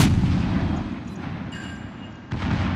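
Naval guns fire in the World of Warships video game, heavy booming artillery shots with long rumbling tails, one followed by another blast near the end, loud and without talk.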